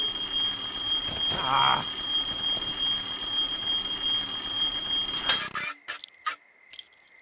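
An in-game alarm in Firewatch, a loud sustained ringing tone that runs for several seconds before cutting off abruptly, with a short startled exclamation from a voice.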